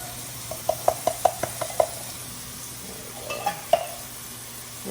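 Chili beans with their juice are stirred into browned, drained beef in a pot, a quick run of metal spoon clinks and scrapes against the pot, then a few softer stirs over a low background hum.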